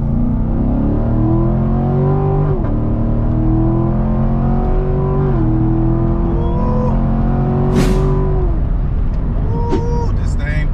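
A C7 Corvette accelerating hard from inside the cabin, the engine note climbing through gears in rising sweeps with brief drops at each shift, loud and close, a short whoosh near the end.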